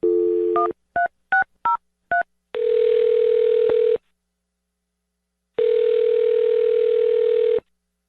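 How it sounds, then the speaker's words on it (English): A quick run of touch-tone dialing beeps, then two long steady telephone tones separated by a pause of silence, loud and clear. "I'm going to dial her phone number right now."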